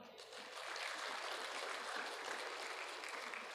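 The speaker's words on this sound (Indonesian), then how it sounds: "Tepuk tangan." Applause from an audience at an Indonesian talk on challenges facing teachers, students and parents, a soft, even roar of many hands clapping continuously, fairly distant and faint.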